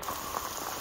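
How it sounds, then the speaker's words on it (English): Hail mixed with rain falls outside, a steady dense patter of drops hitting surfaces at moderate distance, continuous and fairly quiet with no voices. "So, update, it's hailing."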